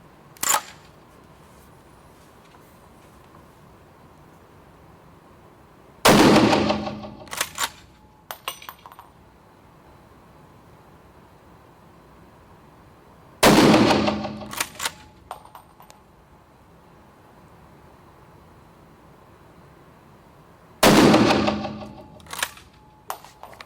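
Three loud rifle shots fired at an indoor shooting range, each a sharp broadband crack with a short echoing tail and a few quick metallic clicks after, spaced roughly seven seconds apart against a quiet background.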